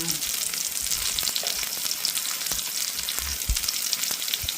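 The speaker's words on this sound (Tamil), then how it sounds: "கொஞ்சமாக பெருஞ்சீரகம் சேர்ப்போம். அதோட கொஞ்சமாக கடுகு சேர்ப்போம்." Fennel and mustard seeds sizzle and crackle in hot oil, a steady close frying hiss with scattered small pops and no voices.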